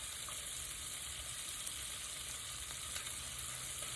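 Ground beef crumbled into a hot pan fries with a steady, close sizzle, a constant hiss with faint crackles and no talking.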